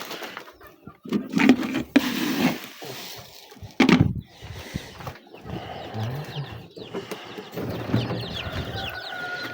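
Chicks and young chickens cluck and peep around a feeding spot in a backyard coop while a person talks to them, with scattered rustling and brief handling noises between the calls.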